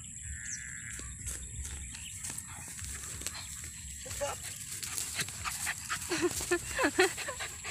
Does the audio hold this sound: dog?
yes